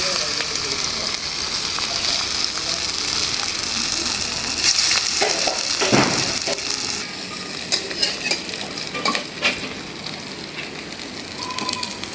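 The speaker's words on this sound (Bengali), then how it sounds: "হয়ে গেল বড়া ভাজা" Fritters made from khesari lentil batter frying in hot oil, a steady close sizzle with clinks and stirring knocks, while a voice talks at moments over it.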